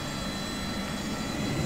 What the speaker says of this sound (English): There's engine ignition